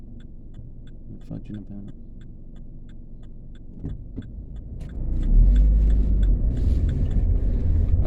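Two cars come down a road one after another, building from a distant low rumble to a loud, close drone in the last few seconds, with someone talking over the approach.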